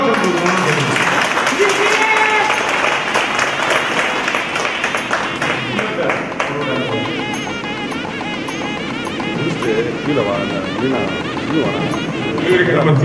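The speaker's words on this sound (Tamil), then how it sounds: "எல்லாரும் ஒரு பெரிய கரகோஷம் கொடுக்கணும்னு கேட்குறேன்" Audience clapping at a Sri Seetha Kalyanam bhajan gathering in Trichy, a broad continuous patter of hands mixed with music and voices, steady and moderately loud throughout.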